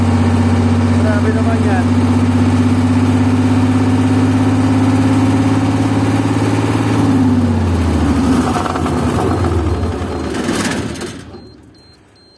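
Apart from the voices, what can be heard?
generator engine revving up, RPM rising to over frequency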